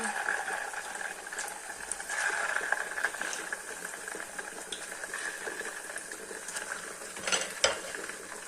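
Fish sizzles and crackles steadily in very hot oil in a pan, a close, even frying hiss that runs throughout, with a few sharper spits near the end.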